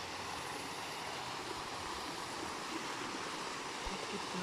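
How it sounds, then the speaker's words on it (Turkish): Steady, broadband rushing of falling water, loud and continuous, with a faint low thump near the end. "Evet şelalenin yanındayız. Buz gibi şelale."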